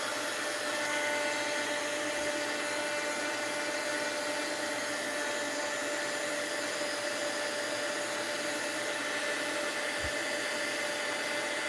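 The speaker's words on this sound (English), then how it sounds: "And let's hit this with the heat gun." A heat gun blows on craft wax, a loud continuous airy whoosh with a steady electric whine that runs unbroken for the whole stretch and is heard alone.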